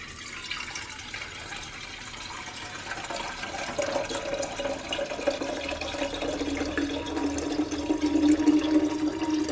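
Water poured into a puttu steamer pot before boiling, a continuous splashing stream that grows fuller and louder as the vessel fills, close and steady, with no talking.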